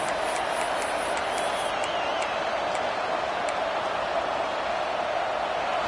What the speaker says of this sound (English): This crowd still bringing the intensity to open the second half.